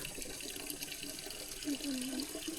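Stream water used for bathing in a rural forest village, a soft continuous trickle and splash heard up close, with faint voices in the background.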